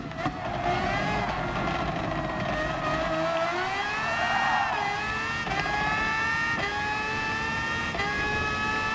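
Red Bull X2019 race car engine in the Gran Turismo Sport video game, a loud continuous high-pitched whine that sweeps through the gears. The pitch dips and climbs again, with brief shifts, while the car approaches a hairpin on a time trial lap.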